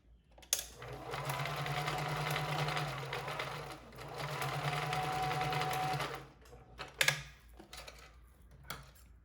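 A sewing machine stitches a fabric face mask in two long, steady, close runs of rapid mechanical whirring, separated by a brief pause, followed by a few short clicks and handling knocks.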